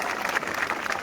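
Crowd applause at a youth protest rally at Jantar Mantar in Delhi, a dense, steady wash of many hands clapping throughout with a few louder bursts, fairly near and continuous.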